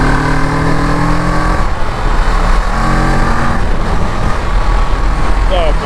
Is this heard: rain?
no